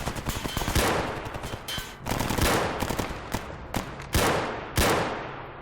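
Rapid gunfire bursts ring out in STALKER Anomaly, a post-apocalyptic shooter game, with repeated sharp shots and short automatic volleys, loud and close, with echoing tails between bursts.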